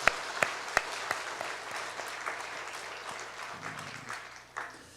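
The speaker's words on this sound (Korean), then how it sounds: "우리 성도님들 수료생들을 위해서 큰 박수로 한번 축하해 주시기 바랍니다" A church congregation at a Sunday afternoon service claps for trainees completing a year-long 2019 discipleship course, a steady wash of applause with a few sharper individual claps standing out near the start.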